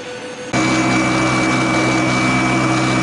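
A glider's electric sustainer motor starts abruptly after a quiet moment, then holds a loud, steady whine and hum with a constant high tone over broadband airflow noise.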